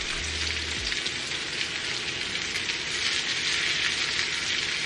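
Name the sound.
lamb chops pan-searing in butter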